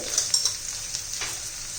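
Onion and carrot sautéing in a pan, a close continuous sizzle with a few light scraping stirs near the start and again around the middle, no talking.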